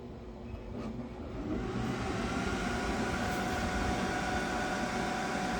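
A laser engraver whirs and hums steadily while engraving, swelling slightly at first then holding a constant, close drone.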